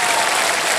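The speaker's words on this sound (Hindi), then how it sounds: "तालियां बजते रहे सौरभ जी के लिए" A game-show studio audience on KBC applauds contestant Saurabh after Fastest Finger First, a brief, dense burst of clapping heard alone.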